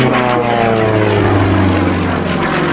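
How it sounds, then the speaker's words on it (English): A Pitts Model S1 aerobatic biplane performs at an air show in Vidalia, its propeller engine droning loud and steady for the whole stretch with a low buzzing hum, holding close without breaks. "He brings the airplane right back to here."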